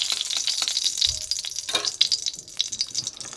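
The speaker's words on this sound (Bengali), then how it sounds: "অল্প করে একটু ঘি দিলাম। ঘিটা গলতে থাক।" Ghee melting in a kadai on the stove gives a light, crackly sizzle with faint scraping clicks, steady and close, with no talk over it.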